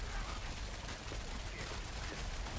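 Rogue's Barrage skill shots in a game fire as a dense, continuous volley, a rapid rattling stream of impacts that fills the short stretch at steady loudness.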